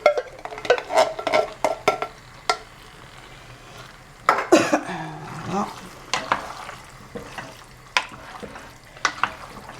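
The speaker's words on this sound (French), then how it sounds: "Je remue, moi." A spoon stirs pork sauté with tomato pulp in a pan, producing scattered scraping clicks and soft sizzling, with a cough and brief talk in between.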